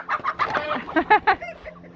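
A rooster clucks close by in a quick burst of several short, throaty notes that trail off softly.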